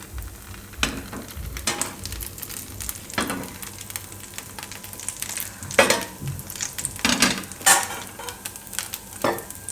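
Poha appam batter cooks in oil in a pan with a soft continuous sizzle, broken up by repeated scraping and light tapping of a utensil against the pan.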